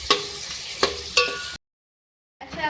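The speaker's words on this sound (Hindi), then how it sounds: "इसको फ्राई करेंगे" Onions frying softly in a pan for chicken do pyaza, with a low sizzle broken by a few stirring knocks, then a brief gap of silence before the sizzle resumes.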